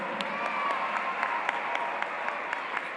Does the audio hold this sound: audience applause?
yes